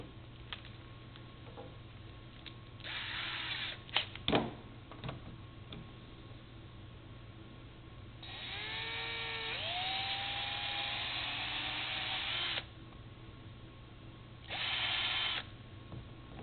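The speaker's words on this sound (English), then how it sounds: "try and take a drill bit and drill through the rubber." A power drill boring through the rubber of a pool table pocket whines in several short bursts, with one longer run that climbs in pitch, and quiet pauses between.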